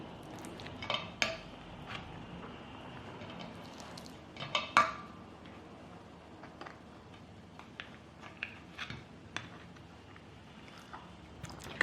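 Cooked rice being scooped into a plastic rice ball maker for dog rice balls, sparse soft scrapes and clicks of utensil against container, with a couple of louder knocks, quiet and close.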